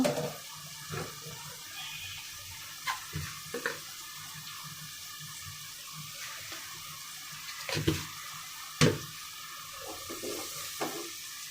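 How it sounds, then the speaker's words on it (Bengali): Dried fish is rinsed under running water in a home kitchen, making a soft, continuous splashing wash broken by a few sharper knocks and splashes, close by and moderately quiet, with no voices. "তো এদিকে এখন শুটকিগুলা ধুয়ে রেখে দিচ্ছি"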